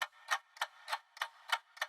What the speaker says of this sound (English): So what I did was I got an alarm clock sound from Splice.